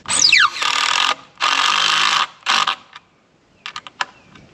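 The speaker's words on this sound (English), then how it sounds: "we're gonna try this lag screw" A power drill drives a lag screw into a tree in bursts: a rising whine, then two long loud runs of grinding whir, a shorter burst, and a few quick clicking taps, close up.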